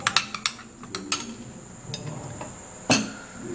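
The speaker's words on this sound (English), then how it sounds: "and then you stir it up just like this" A spoon stirs a hand remedy mixture in a bowl, giving a quick run of sharp clinks and taps against the bowl, then a pause and one more louder knock.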